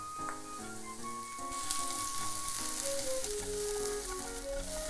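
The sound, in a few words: garlic and scallion sizzling in olive oil in frying pan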